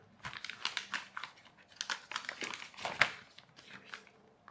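A sheet of scrap paper being folded into a paper airplane, with close crinkling and creasing rustles coming in quick, irregular bursts and a sharper crackle near the end.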